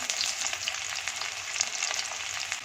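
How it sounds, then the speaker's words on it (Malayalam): Onions frying in hot oil after mustard seeds have popped, for a Kuttanadan-style prawn fry: close, bright crackling sizzle with light spattering, steady throughout. "കടുക് പൊട്ടിക്കഴിഞ്ഞു. ഇനി നമുക്ക് ഉള്ളിയിടാം."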